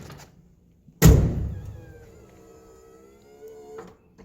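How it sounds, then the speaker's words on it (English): Power steps extending on a converted bus as the door opens: a sharp thunk of the door followed by a motor whine that drones for a few seconds and stops with a faint click. "you just open the door up, they extend,"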